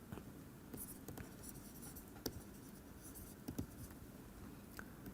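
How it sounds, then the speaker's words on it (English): Faint scratchy strokes of handwriting on a board or paper during a physics lecture, with short irregular marks and taps over a hissy room background. "Let me write that in words."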